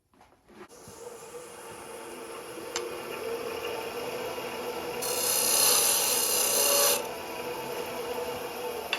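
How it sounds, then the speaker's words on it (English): A high-speed steel insert tool nibbling out the inside of a wooden lidded finial box spinning on a lathe, a steady rasping scrape that swells louder and brighter for a couple of seconds mid-cut before easing back. "It's a high-speed steel insert, and you will just nibble away on the inside."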